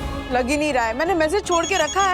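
A telephone rings in a Hindi sitcom household scene, its repeating tone running through the whole moment while someone talks over it.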